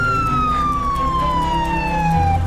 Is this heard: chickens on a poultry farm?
no